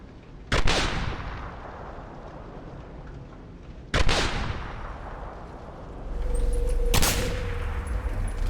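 Rifle gunfire in the shooter Singularity: two loud, sharp shots a few seconds apart, each with a ringing tail, then a rising rumble, a third blast and a lingering mechanical hum.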